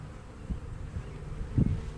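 Honey bees buzzing around a swarm trap hive with the queen inside, a steady low insect drone with a few louder passes close by as the bees circle near the entrance.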